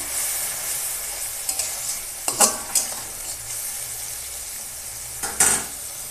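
A ground paste of ginger, cumin, garlic and coriander sizzling in oil with dried red chillies for a chicken curry, a constant frying hiss broken by two sharp spatula scrapes against the pan.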